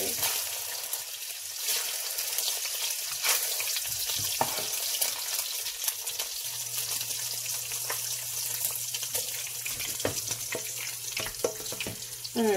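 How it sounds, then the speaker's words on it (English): Grease is drained from cooked taco meat in a kitchen, a steady close hiss and sizzle like pouring liquid over a hot pan, with a low hum joining midway and faint clatter near the end. "I'm just going to drain the grease, folks."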